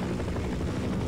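Rumbling helicopter rotor and engine noise from the Half-Life video game, a steady low throbbing drone with no speech.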